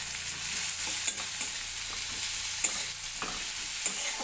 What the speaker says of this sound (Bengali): ওই তেলেই আমি একটু কালো জিরে দিয়ে দিলাম, দেওয়ার পরে আমি পেঁয়াজ কুচিটাও দিয়ে দিলাম।